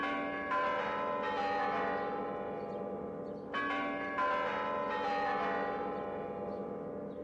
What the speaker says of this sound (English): The melodious chimes of the clock tower are well known all over the world.